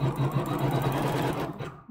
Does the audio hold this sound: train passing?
no